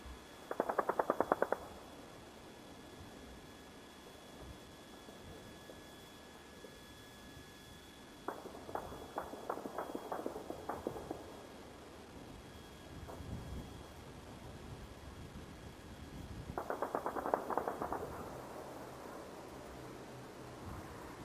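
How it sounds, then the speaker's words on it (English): Automatic gunfire in a war zone, rapid bursts of rattling shots coming in several separate volleys at a distance, with a steady hiss and faint tones in between and no talk. "Still a lot of gunfire."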